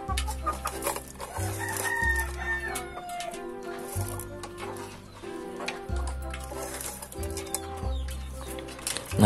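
Chickens cluck and call repeatedly over a steady low background hum, with overlapping bird sounds throughout and no talking.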